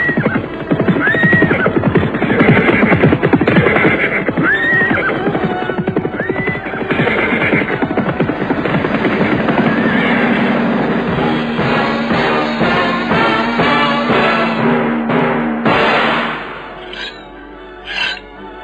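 Audio-drama horses whinnying loudly several times as riders flee, followed by a rush of clattering hooves that fades away near the end.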